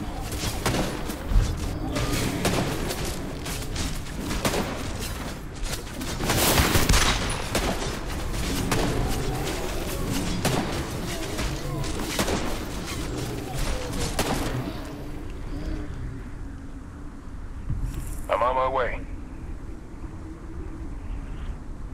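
Dense bursts of gunfire rattle through a doomsday video game scene for about fifteen seconds, loud volleys overlapping with mechanical clatter before fading to a quieter background with a brief electronic sound.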